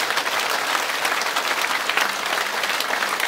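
Loud, dense applause from a gathered audience honouring Ishwar at a worship gathering, steady unbroken clapping sustained for a few seconds with no voices.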